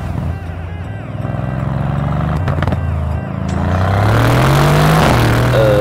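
A Mercedes-AMG C63S Coupe engine revs up in comfort mode, where speed is capped near 4500 rpm. The close, loud rising engine note climbs toward the end after a stretch of quieter vehicle rumble.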